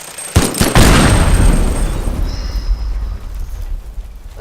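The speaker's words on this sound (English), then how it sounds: "that's a pretty small explosion" Sharp blast from an explosion in the destruction game Teardown, followed by a rolling boom and crumbling debris that fades over a few seconds. It is loud and close.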